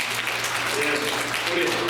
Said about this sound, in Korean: 우리 큰 박수 한번 합니다